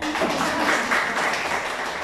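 An audience at a talk about D-Supreme and BIBO products claps together, giving a steady, even patter of applause that stays at the same level throughout.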